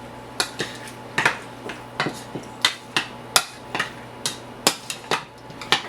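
A spoon mixes chili powder sauce in a bowl, striking the sides in a fast, regular series of sharp clinks and taps, close and fairly loud, with a low steady hum beneath and no talking.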